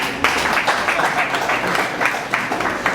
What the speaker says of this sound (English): Can we clap for the guest of honor?